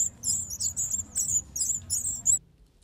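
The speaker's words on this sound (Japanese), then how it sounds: "鳥の鳴き声が聞こえますが、" Repeated high, bright swallow chirps in quick bursts over a low background rumble, stopping abruptly near the end.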